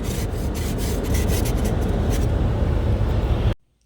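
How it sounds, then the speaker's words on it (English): Frost scraped from the inside of a car's frosted windshield: a steady, loud, continuous rasping scrape that runs unbroken for several seconds, then stops abruptly. "My car is frosted inside. And I'm trying to like scrape it out."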